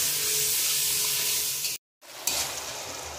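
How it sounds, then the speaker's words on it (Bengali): A spice paste with a splash of water sputters and hisses as it is fried down in a pan for a cauliflower and rohu fish curry. The steady sizzle cuts out briefly, then returns a little sharper. "তারপর বেশ কিছুক্ষণ সুন্দর করে মশলাটা আমি কষিয়ে নেব।"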